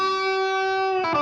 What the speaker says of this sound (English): let me push the expression pedal forward so you can hear what the boost sounds like